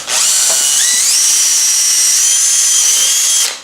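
A 1/8 inch drill bores through an Atari 2600 case with a loud, steady high-pitched whine that rises in pitch as it spins up, holds for a few seconds, then cuts off.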